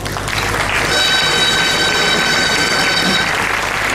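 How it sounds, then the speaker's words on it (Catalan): Loud crowd applause for a local hero at a street festival presentation on a Catalan avenue, dense and continuous, with a steady high whistle-like tone running through the middle. "Doncs aplaudim amb afanys a l'heroi de fa dos anys"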